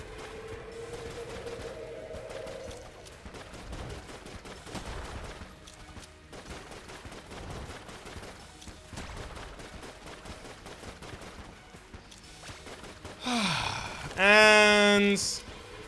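Gunfire in the Enter the Gungeon video game: a quick burst of sharp electronic shots near the end, following a stretch of quiet game music and effects, loud against a faint background.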